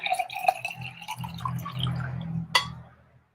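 Water poured and dripping into a glass, light clinks and trickling splashes with a bright tap near the end, close and quiet, no talking.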